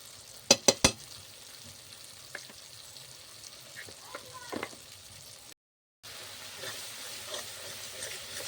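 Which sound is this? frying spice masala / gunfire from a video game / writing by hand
frying spice masala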